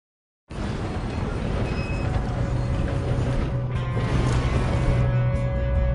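A train rolls along in a PS4 video game during a robbery, a steady rumbling drone with a low engine hum and a faint whistle-like tone, continuous and fairly loud throughout.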